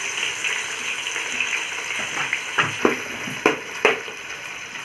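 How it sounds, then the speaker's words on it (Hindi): Onions and green chilies frying in hot oil for Ambur dum biryani, a steady close sizzle with a few sharp crackles and stirring scrapes near the end. "इसे 5 से 10 मिनट तक इसको फ्राई करते रहेंगे जैसे ब्राउन कलर हो जाए।"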